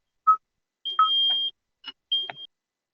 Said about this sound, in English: you're gonna hear the beeping